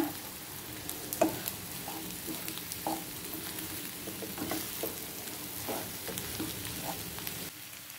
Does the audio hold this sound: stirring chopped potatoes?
yes